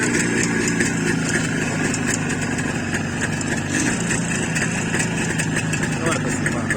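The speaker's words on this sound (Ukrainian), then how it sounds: "Он просто хочет услышать, как мотор работает." A Jawa motorcycle engine idles steadily after a cold start, a loud, continuous two-stroke putter close by, with people talking over it.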